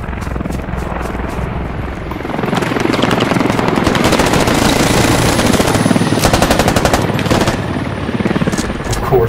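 Machine gun fire in the game Squad: rapid bursts of automatic shots, first sparse and separate, then long close sustained strings of rounds with a steady rumbling drone behind them.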